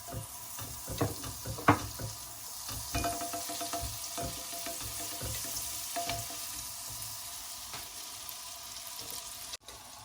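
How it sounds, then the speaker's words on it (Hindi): Butter melts in a frying pan, a soft steady sizzle with scattered crackles and a few scrapes, fairly quiet and close, with no voices. "सबसे पहले बटर को डालेंगे पैन में।"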